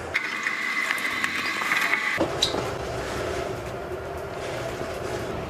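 Metal clicks and ratcheting scrapes of a wrench tightening a leaking line fitting on an electric water heater, close and moderately loud over a continuous hum.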